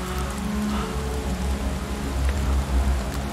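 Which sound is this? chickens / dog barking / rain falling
rain falling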